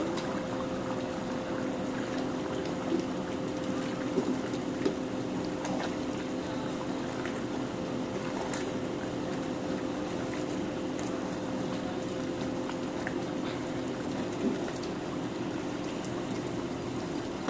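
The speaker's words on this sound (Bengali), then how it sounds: "এখন একটু লাড়া দিয়ে দিব" Beef curry bubbling in a pot as it is stirred, giving a steady, even simmering and sizzling texture with a faint constant hum and a few soft clinks, with no voices.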